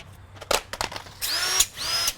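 Several 18V cordless drills, including Milwaukee, Bosch, Ridgid and Panasonic models, running in a drill endurance test, with bursts of motor whine and rising, sweeping pitches from drills spinning up and down close by.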